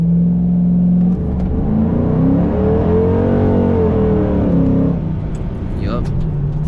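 A Ford Mustang GT's V8 revs hard as its wheels spin on wet ground during a launch. The loud, continuous engine roar rises and falls in pitch, with a voice talking over it.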